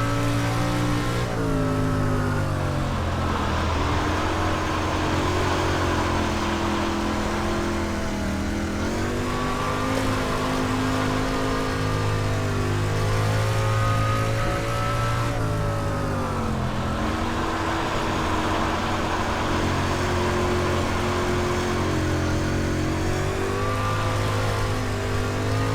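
A Pro Late Model race car engine in the iRacing sim drones and revs continuously on the Volusia dirt track, pitch rising and dipping through shifts and corners, loud and steady with no talk.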